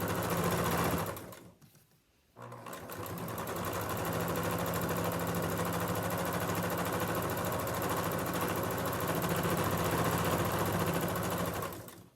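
Sewing machine stitching a fabric face mask runs in a steady, close whir after a brief pause near the start, then continues evenly until the end with no talking.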